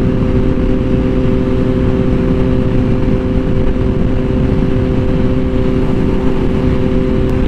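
Harley-Davidson Sportster 1200cc motorcycle ridden on a summer evening, its engine droning loud and constant with a steady low hum and rushing wind noise throughout, no talk.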